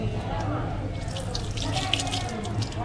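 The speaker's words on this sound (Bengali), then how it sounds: "আর এখানে তোমার হাতটা ধোয়ার জলের ব্যবস্থা আছে," A hand-washing water tap at a Hindu temple shrine in Bakreshwar runs steadily and close by, a continuous splashing hiss with faint background voices.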